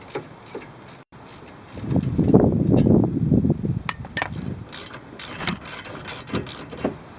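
A wrench ratchets against the top brake caliper bolt during a wheel bearing change, a burst of close, dense clicking and grinding in the middle followed by scattered lighter clicks.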